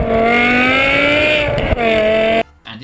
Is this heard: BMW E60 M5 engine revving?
yes